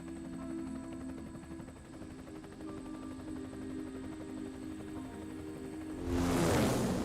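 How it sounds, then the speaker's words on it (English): A helicopter flies away in Resident Evil 4 Separate Ways with a steady rotor drone under music tones, then a louder whooshing rush swells at the end. "Off to the sunset in good old RE fashion in a helicopter, ride in style."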